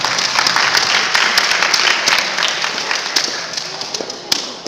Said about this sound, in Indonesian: tepuk tangan untuk guru-guru kita tuh